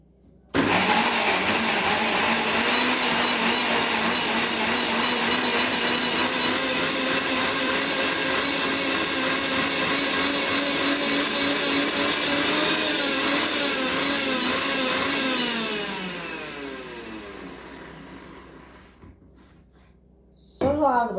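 An electric mixer grinder runs loudly in a home kitchen with a steady high whir and grind, then slows down and stops near the end, when a short clatter follows.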